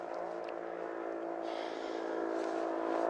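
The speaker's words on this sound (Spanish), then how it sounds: "El tipo se pierde en el infinito y se oye la moto." A steady motorcycle engine drone in the film No Time to Die slowly grows louder as it approaches, with a brief swell of higher whine midway.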